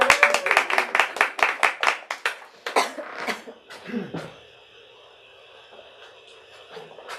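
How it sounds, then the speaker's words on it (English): A small audience at a bookstore author event gives a round of applause: sharp, distinct claps from a modest crowd for about three seconds, then fading out into a quiet room with a faint voice and shuffling. "Let's give a round of applause to these."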